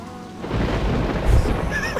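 Thunder rumbles through a lightning storm in the game Saints Row 2 as a loud, deep roll that swells and grows heavier midway, with rain hissing underneath and no talk.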